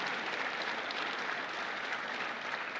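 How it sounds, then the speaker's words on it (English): Audience applause at a formal awards dinner, a steady dense wash of many hands clapping throughout, fairly loud and continuous with no voices over it. "Give them all a round of applause."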